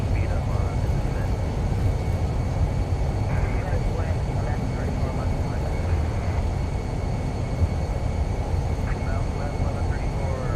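An Airbus A320 in Microsoft Flight Simulator lands at Las Vegas with thrust reversers deployed, a loud, steady, broad engine roar that holds throughout as voices talk over it.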